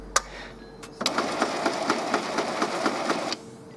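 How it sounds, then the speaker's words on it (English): An Epson XP2100 inkjet printer runs a print head cleaning cycle, its carriage chugging back and forth in a steady rapid mechanical rhythm for a few seconds after a couple of sharp clicks, close and fairly loud with no talking. "we'll hear our printer making a lot of noise,"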